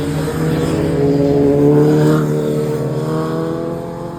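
Big cars driving past on a road, a loud close engine drone with a steady tonal hum that swells to a peak and then fades as a vehicle goes by, with no voices.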